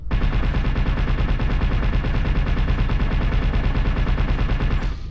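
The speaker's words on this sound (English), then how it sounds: "So a a clan light machine gun." A clan light machine gun in MechWarrior Online fires one loud, unbroken stream of fast, evenly spaced rounds for about five seconds, then cuts off abruptly.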